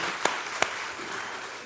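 A church congregation applauds the Hosanna choir, a dense wash of clapping with a couple of sharper claps standing out early, steady and fairly close throughout.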